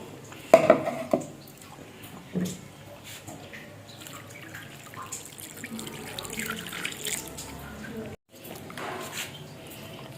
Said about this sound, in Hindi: अब दूसरी दफ़ा हम जो है ना वॉश कर रहे हैं।